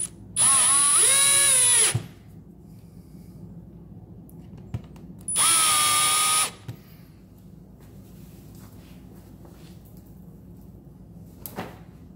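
A power drill drives screws while installing a Joso wifi switch, two loud whirring bursts of about one to two seconds each, separated by quiet pauses with faint handling clicks.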